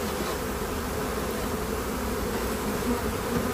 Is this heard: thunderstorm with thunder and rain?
no